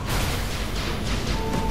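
Explosions in the video game Tribes Ascend, a dense, continuous rumble of overlapping blasts and whooshes that stays loud and steady throughout the short stretch.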